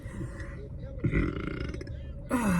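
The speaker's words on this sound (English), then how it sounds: "excuse me, I got a burp" A man lets out a loud, drawn-out burp mid-speech, followed by a second gurgling belch, with his talking voice close by around it.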